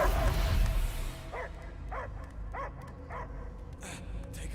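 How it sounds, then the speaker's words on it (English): A dog in the video game Guardians of the Galaxy barks in a short series of evenly spaced yaps, fairly close, after a louder rumbling burst at the start. "I hear only barking"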